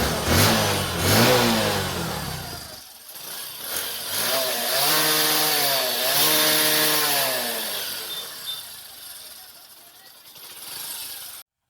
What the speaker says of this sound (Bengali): আর হচ্ছে এখনকার সাউন্ডটা বাইকের দেখবেন যে কতটা তফাৎ আসছে।